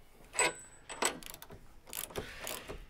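A press tool pulls a new bushing onto a BMW 3 Series control arm, making a few sharp, close metallic ratcheting clicks and creaks spaced irregularly over a quiet background.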